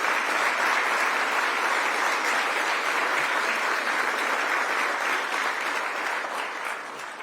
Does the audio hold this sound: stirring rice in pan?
no